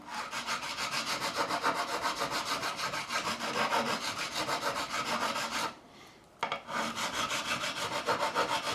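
A diamond crowning file rasps rhythmically back and forth across a flattened guitar fret on a Squier Classic Vibe Telecaster, steady and close, with a brief pause before the strokes resume.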